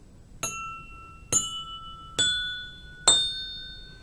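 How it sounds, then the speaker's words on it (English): Four evenly spaced clear glass tones ring out one at a time as water-filled glasses holding different water levels are tapped gently with equal force, each strike bright and sustained before fading. "Now, let us tap these gently."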